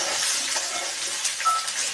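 Chopped onions fry in hot oil in a pan while being made into a potato curry to go with puri. A steady, close hiss of sizzling runs throughout, with small crackles and a faint stirring scrape.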